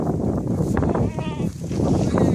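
Goats bleating at an outdoor farm on Jeju Island, several overlapping wavering calls close by, continuous over a noisy background of movement and murmuring voices.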